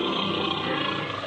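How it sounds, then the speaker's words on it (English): A lion roars in a cartoon setting, a single loud, rough, sustained bellow filling the whole moment without any talking over it. "He talked to the lion"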